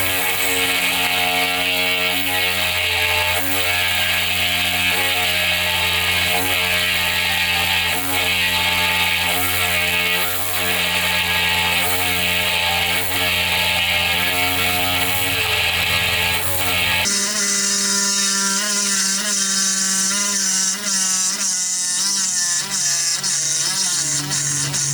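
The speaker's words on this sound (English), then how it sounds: "just letting the drill do the work" A drill bores into tempered glass, running continuously with a steady grinding whine, its pitch shifting partway through, loud and close throughout.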